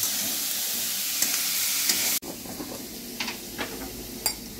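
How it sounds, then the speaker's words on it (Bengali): Bombay duck fish pieces fry in a pan with a loud, steady sizzle. Partway through it abruptly drops to a quieter hiss with scattered pops and crackles. "ভাজা হতে থাক, আমি ফিরে আসছি।"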